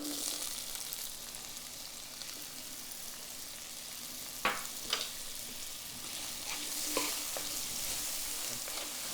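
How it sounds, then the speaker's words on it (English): Onions sautéing in avocado oil in a pan, a soft, even sizzle held at low level throughout, broken by a few sharp spoon or spatula knocks against the pan around the middle. "the avocado oil will help us get a little hotter than that as we're sauteing up the onions"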